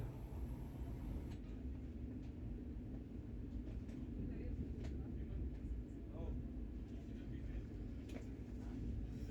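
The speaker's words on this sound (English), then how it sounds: "Finally pulling into KSR Bengaluru station." A Vande Bharat Express on its inaugural Ernakulam–Bengaluru run pulls into KSR Bengaluru station, with a steady, loud interior rumble and rail noise throughout and occasional voices in the background.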